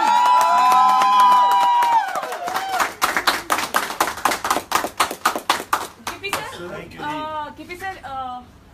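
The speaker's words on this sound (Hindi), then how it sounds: "तालियां बजानी होती है।" Rhythmic unison clapping from an audience lands as a string of sharp, regular beats over a loud musical tone and voices, then gives way to speech.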